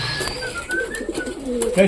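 Pigeons coo repeatedly in soft, rolling bursts at close range, a flock of pet racing pigeons, with some background noise and chirps over a short stretch.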